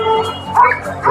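A dog barks and yips in a busy Egyptian dog market, a few short close calls over a steady crowd din.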